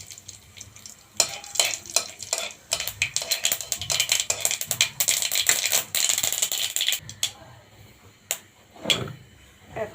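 Whole mustard seeds and two dried red chillies fry in hot mustard oil. A busy crackling sizzle is broken by repeated rattling stirs and scrapes against the pan, then dies down near the end.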